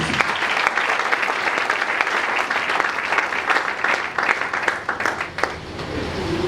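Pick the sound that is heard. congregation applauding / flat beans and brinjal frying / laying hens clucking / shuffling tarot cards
congregation applauding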